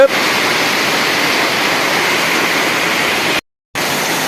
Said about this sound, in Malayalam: നിൽക്കാതെ മഴ പെയ്തും കൊണ്ടിരിക്കുകയാണ്.